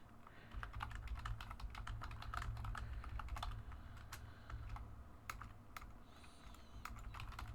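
Computer keyboard typing at a desk during a game stream, a dense run of quick keystrokes with brief pauses, close and clear over a steady low background hum, no voices.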